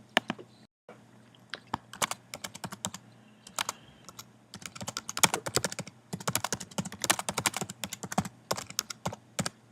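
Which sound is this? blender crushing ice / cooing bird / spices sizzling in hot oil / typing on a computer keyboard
typing on a computer keyboard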